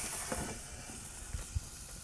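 Cooked octopus charring on a hot grill at 400 degrees, a faint steady hiss with a couple of soft pops.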